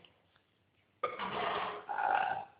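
A loud, close burp erupts after a quiet moment during a burping contest, a rough gravelly croak stretching over a second and a half with a brief break midway, and no talking over it.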